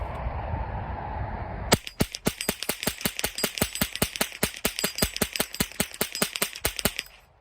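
A CMMG .22 LR conversion kit in a rifle fires Aguila Super Extra round-nose rounds in a long rapid string of sharp, evenly spaced cracks that starts abruptly and stops after about five seconds.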